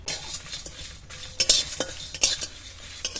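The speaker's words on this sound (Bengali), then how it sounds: "উনুনটা ধরিয়ে দিয়েছি, কড়া বসিয়ে দেবো মশলা ভাজার জন্য" Whole spices—dried chillies, fennel, cumin, coriander seeds and black peppercorns—dry-frying in a wok, with a soft hiss and a spoon stirring and scraping against the metal in irregular strokes, up close and without talk.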